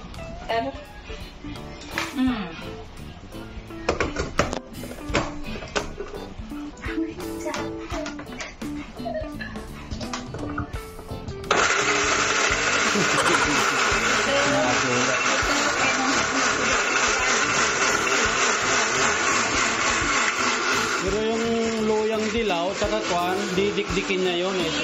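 Electric kitchen blender whirring steadily through ingredients and a little water for Indonesian cooking, switching on partway and running loud and continuous to the end, with people talking and household clatter beforehand.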